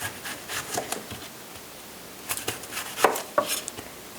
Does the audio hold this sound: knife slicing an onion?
yes